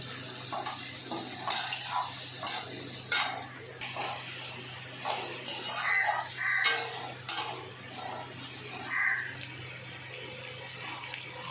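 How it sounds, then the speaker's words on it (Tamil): Small onions, garlic and curry leaves sauté in a pan for a South Indian fish curry. A soft, steady sizzle runs underneath, broken by repeated scraping and clinking as a spoon stirs the pan up close. "வெங்காயம் நல்லா வதங்கிடுச்சு."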